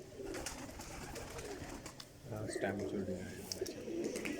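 Pigeons coo in a low, throaty burble among kept breeding birds at a rooftop loft in Sialkot, with someone talking throughout and the cooing rising clearly near the end.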